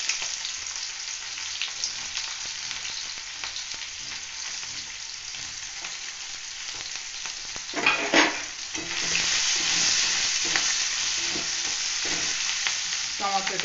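Onion goes into hot oil left over from frying katla fish and sizzles steadily and loudly, with bursts of stirring and scraping partway through as the frying grows more vigorous.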